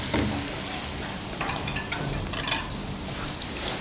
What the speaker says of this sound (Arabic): بص الزبده بدات تسيح